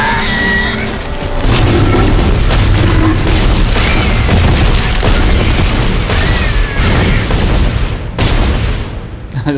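Gunfire in the sci-fi horror video game Dead Space: a dense run of loud, heavy shots and booming blasts that goes on throughout, close and harsh, with bursts coming in quick succession over rumbling game noise.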